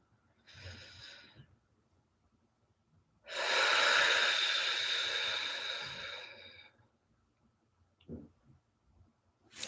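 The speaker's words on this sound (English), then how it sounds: "Just want to take a couple more deep breaths." Two slow, deep breaths, a shorter inhale followed by a long, loud, airy exhale close to the microphone, with a soft sniff afterward in a quiet room.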